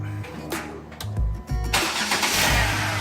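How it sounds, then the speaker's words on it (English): A Jeep Wrangler JK engine cranking and catching on remote start, a short starter whir followed by the engine firing and settling into a loud rumbling idle close by. "Give it a second and she'll fire up"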